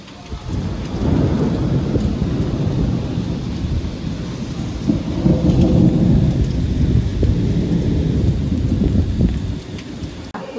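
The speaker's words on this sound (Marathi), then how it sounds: "परत एवढा मुसळधार पाऊस सुरू आहे की भयंकर" Heavy monsoon rain pours down steadily with deep rolling thunder rumbling loudly through most of the stretch, no voices heard.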